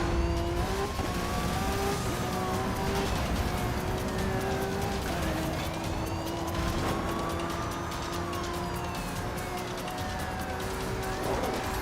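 An Enzo Ferrari engine roars through a police chase in Need for Speed Rivals, its pitch rising and falling with gear shifts, while sirens wail and the engine stays loud throughout.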